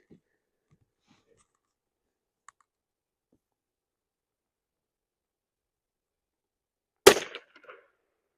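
A single sharp Ruger 10/22 rifle shot cracks out loud and close after long near-silence, with a short ringing tail and faint clicks before it.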